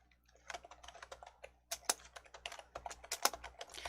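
Someone types on a computer keyboard in quick, irregular bursts of soft, close key clicks, entering a scenario name into an Excel spreadsheet, with no voice over it.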